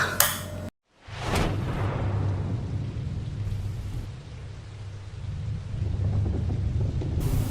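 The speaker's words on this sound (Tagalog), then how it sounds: "Rain, go away." A thunderstorm with rain: a sharp crack and a rolling rumble of thunder, then steady rain hissing and drumming on surfaces, with a second swell of rumble near the end.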